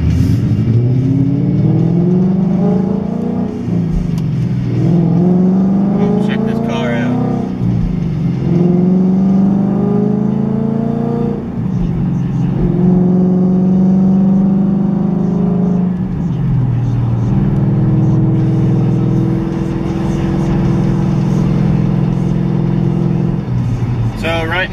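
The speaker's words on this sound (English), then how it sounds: "That's when you're gonna receive the most drone out of this car." A 2015 Mustang GT V8 with a Stainless Works exhaust drones steadily at highway speed, its loud low hum rising and falling through several gear changes and throttle swells, with a voice talking over it.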